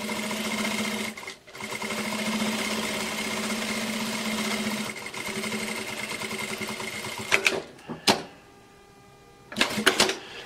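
Sewing machine stitching a seam on a bag, running in a steady fast whir for several seconds, pausing briefly, then stopping with short bursts and clicks near the end; no talking.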